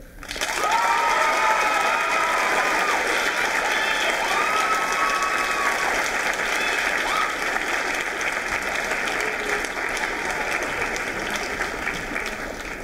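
A school audience applauds and cheers for student writers at a writers' week event, full steady clapping with scattered whoops, sustained and loud for over ten seconds before tapering slightly.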